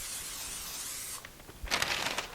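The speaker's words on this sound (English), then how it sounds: "we're going to spray it with some cooking spray" Cooking spray hisses from an aerosol can onto the bottom of a 9x13 baking dish, a steady broadband spray for over a second followed by a few shorter bursts, close and fairly quiet with no talking.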